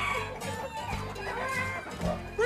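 Chickens cluck and a rooster crows at a fair livestock pen, several short bird calls near and fairly loud, rising and breaking over a low background.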